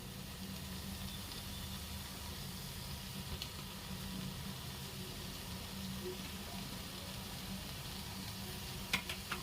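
Poha (flattened rice) frying in a pan is stirred, giving a steady soft sizzle with faint scraping throughout and a couple of small clicks near the end.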